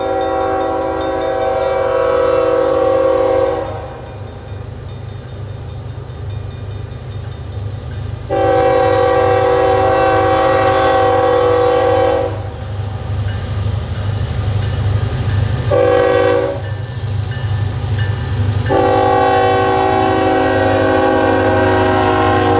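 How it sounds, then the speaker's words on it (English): Union Pacific locomotive 7664 leading a long manifest freight train north through a road crossing in Willis, Texas, sounding loud repeated horn blasts over the steady rumble and rolling clatter of passing cars. "Union Pacific's engine 7664 leads a long manifest train north through Willis at the Rogers Road crossing"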